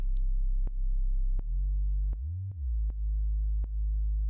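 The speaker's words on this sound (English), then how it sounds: "there is some gain reduction that's happening on that sub bass every time that the kick hits" Deep sub bass tone in a Reason 12 R&B beat, pumping and dipping each time a punchy kick drum hits, with a steady kick pulse and a low sliding bass note in the middle, loud and without voices.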